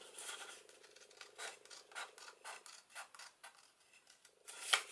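Scissors snip through paper while cutting a junk journal pocket, a series of faint, close, irregular rasping cuts and rubs over several seconds.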